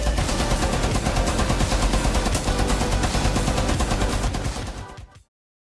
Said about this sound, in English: LMG mounted and loaded!